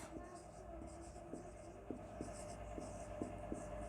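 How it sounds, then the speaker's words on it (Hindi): Marker or chalk strokes scratch on a board during a physics lecture, quiet and intermittent, with a faint hum of the room behind them. "हम लिखेंगे"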